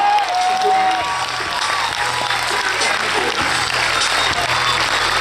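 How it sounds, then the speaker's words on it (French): Strong audience applause at a film premiere screening, continuous clapping and cheering from a large crowd with voices mixed in. "Suit, bien sûr, Pierre et Larissa, on les applaudit très très fort."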